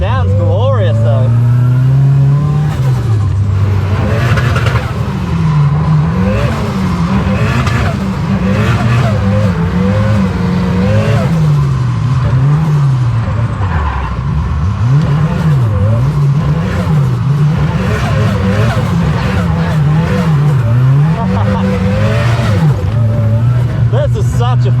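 A turbocharged 300 hp rear-wheel-drive Mitsubishi Evo in full street trim, fitted with a CA18 engine, drifts on a wet road with a passenger aboard. Loud, continuous engine revving rises and falls throughout, with people talking over it.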